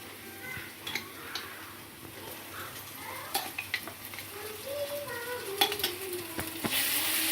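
Chicken frying in a pan with ginger garlic paste just added, stirred with a utensil: steady close sizzle under repeated scraping and clinking stirs, growing busier toward the end, with no talk.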